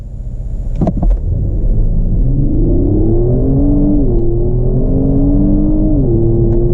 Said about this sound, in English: I'm just going to nail the throttle and see what it does.